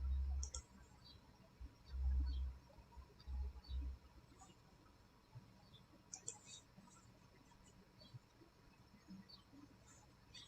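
Quiet computer mouse clicks come in a few scattered taps over a hushed room background.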